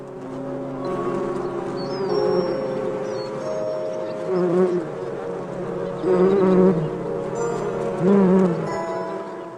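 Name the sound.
bees buzzing around olive trees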